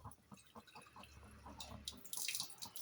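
Water is poured into a pan of soya kurma made with a ground cashew and peanut paste, a soft, close trickle and splash that grows louder toward the end, with no talk.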